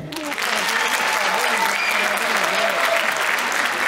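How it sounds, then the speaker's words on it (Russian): A concert audience bursts into applause, dense steady clapping close and loud from a full hall, filling the whole stretch without any talking. "конечно же, ваши бурные аплодисменты."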